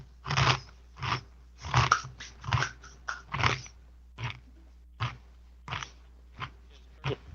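Someone chews food close to the microphone, with a steady series of crunchy bites and mouth sounds repeating every half second or so during a tabletop role-playing game session.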